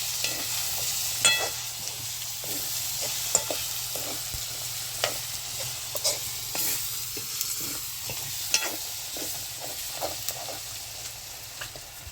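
Peanuts being stirred in a hot pan with turmeric and red chili powder, a continuous sizzle with repeated scraping knocks of the spoon against the pan in an irregular rhythm.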